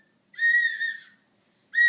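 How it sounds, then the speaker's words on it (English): A child blows a whistle in two shrill bursts, the first a wavering toot of about a second, then a short pause before a second sharp blast, close and clear against a quiet room. "Did you learn how to blow a whistle?"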